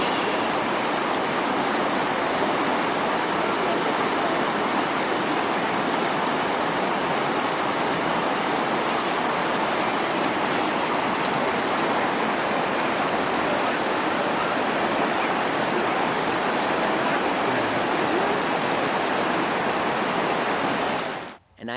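River water flows steadily as a loud, continuous broadband rush that lasts about twenty seconds without a break, with no voices, then cuts off abruptly at the end.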